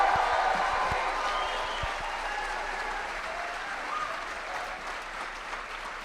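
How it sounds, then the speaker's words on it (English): Crowd applause at a political rally in Ohio, a broad wash of clapping with a few cheers, strongest at the start and slowly easing over six seconds. "Let's give him a round of applause."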